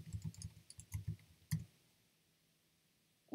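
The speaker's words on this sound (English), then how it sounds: "let's just type it in" Burst of clicking keystrokes on a computer keyboard while entering a website search, a quick run of taps followed by a couple of isolated clicks, close and fairly quiet.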